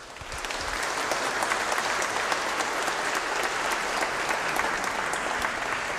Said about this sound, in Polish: Na otuchę dobre brawa dla nich na powitanie.